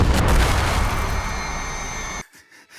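Mortar strike explosion in a war horror video game, a loud deep boom with rumbling debris that decays over two seconds before cutting to near silence.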